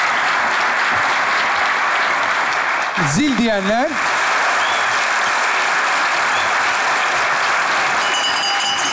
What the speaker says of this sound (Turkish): Bravo, alkışlar.